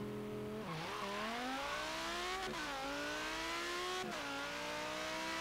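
A powerful car in Forza Horizon 3 accelerates hard, its engine note climbing loudly and continuously through the revs, with three quick dips in pitch as it shifts up through the gears.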